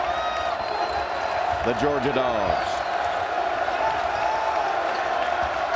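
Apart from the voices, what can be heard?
basketball arena crowd cheering to rally the Georgia team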